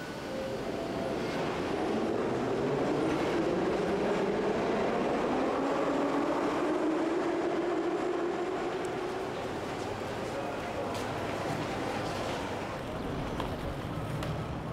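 Moscow subway train running through a tunnel, a steady loud rumble with a rising and falling whine as it moves.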